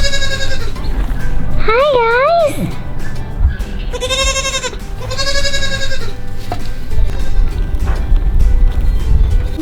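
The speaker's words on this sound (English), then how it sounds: "Time to go say goodbye to the baby goats." Baby goats on a farm bleat loudly and close by in several wavering cries, with people talking and greeting over the calls.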